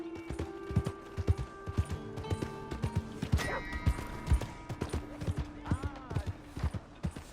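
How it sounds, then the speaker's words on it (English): Horse hooves clip-clopping in Red Dead Redemption 2, a steady run of close, crisp hoofbeats joined by creaking tack and a brief whinny, with scattered game speech over them. "Hey! My horse!"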